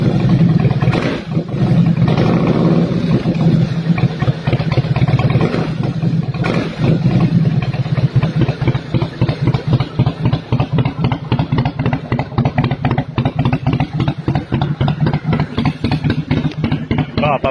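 A Harley-Davidson Heritage Softail Twin Cam with an aftermarket fishtail exhaust runs close and loud, a deep throbbing rumble that turns into rapid, choppy pulses as the throttle is worked.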